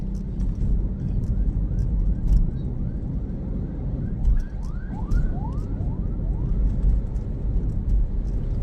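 A car drives along a highway in South Sulawesi between Makassar and Palopo, with a constant low engine and road rumble close up and faint chirping sounds repeating above it.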